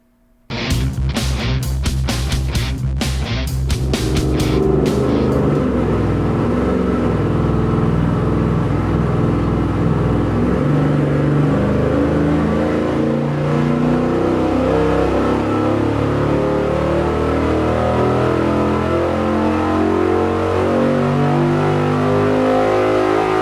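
An engine on a dyno fitted with an Edelbrock Performer RPM intake manifold fires up after a few sharp cranking bursts, then runs a long, loud, close pull with roaring, shifting pitch that sustains to the end.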